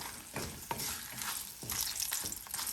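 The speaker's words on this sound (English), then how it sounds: "And finally I will add the hing as well. Give it a quick stir." A chutney tempering with hing being stirred in a hot pan, a steady close sizzle under repeated scraping strokes of a spoon every half second or so, no talking.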